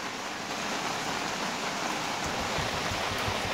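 Steady rain falls outdoors around a tent, a dense, even hiss of drops that holds at the same level throughout with no voices.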